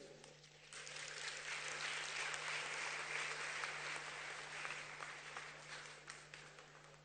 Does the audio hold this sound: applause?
yes